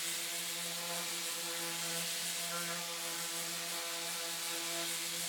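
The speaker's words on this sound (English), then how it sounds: "I moved on to sanding the drawer" Steady rhythmic rubbing of sanding on a wooden washstand drawer, continuous and fairly quiet, with a faint mechanical hum underneath and no talking.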